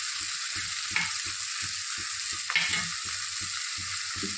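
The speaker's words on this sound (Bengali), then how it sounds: "এইগুলো ভাজা হয়ে গেছে, টমেটো, ক্যাপসিকাম, পেঁয়াজ আর লঙ্কাটা।" Tomato, capsicum, onion and chilli fry in a pan for masala noodles, a steady close sizzle with regular stirring scrapes and a couple of sharper clatters, no voices.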